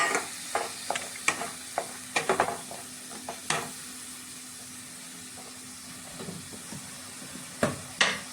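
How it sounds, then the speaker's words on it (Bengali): Spices with turmeric, hot chili powder and Kashmiri chili powder sizzle steadily in a pan under a broad hiss, broken by sharp clicks and scrapes of stirring, close and fairly loud, with no talking. "দিয়ে এখন আমি মশলাটাকে ভালো করে কষিয়ে নিচ্ছি।"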